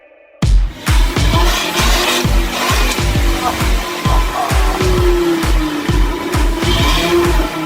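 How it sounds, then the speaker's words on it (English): A 2008 Volvo C30 T5 with a five-cylinder engine revs repeatedly, each loud throttle blip rising and falling in a quick, regular rhythm close to the microphone after a brief quiet start. "That is his 2008 Volvo C30 that has the T5 5-cylinder white block"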